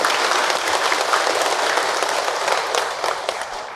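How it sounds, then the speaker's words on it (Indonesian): An audience at a Ramadan religious lecture breaks into sustained applause, a dense wash of many hands clapping together that holds steady for several seconds before easing slightly toward the end. "tepuk tangan Ibu untuk Ahilman."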